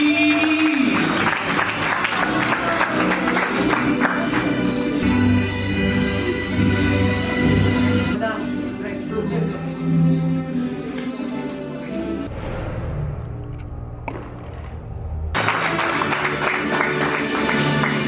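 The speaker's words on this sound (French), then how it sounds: "Ça s'applaudit." At a graduation ceremony in Lomé, Togo, sustained clapping runs under loud music for a long stretch, thinning midway and then swelling back near the end.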